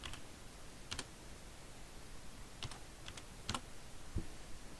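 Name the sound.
typing formulas on a computer keyboard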